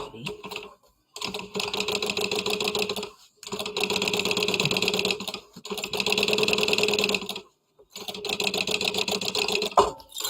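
A sewing machine stitches along a marked seam allowance in four rapid, rattling bursts separated by short pauses, loud and close. Someone talks over the stitching.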